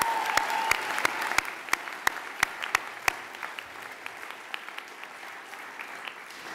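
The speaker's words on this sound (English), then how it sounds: "Let's give them another round of applause." Steady audience applause at a 2015 Goldman School of Public Policy commencement ceremony, a broad wash of clapping punctuated by sharp, rhythmic claps from someone nearby, continuing evenly for several seconds.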